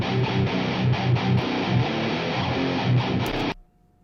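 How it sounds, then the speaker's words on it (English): Death metal electric guitars on an unprocessed guitar bus churn out dense, heavily distorted chugging riffs, loud and continuous, then cut off abruptly near the end, leaving a faint ringing tail. "So I will show you what that sounds like with no further processing on the actual guitar bus."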